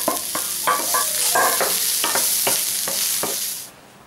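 Bell peppers and onions for a Cajun Holy Trinity mix fry in a pan, a continuous close sizzle broken by repeated spoon-stirring clacks, fading out at the end.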